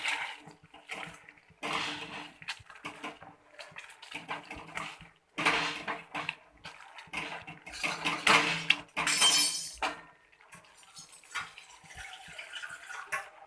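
Repeated wet clatter and scraping of a utensil against a pot as dosa filling is mashed, in uneven bursts with short pauses between, close and fairly loud.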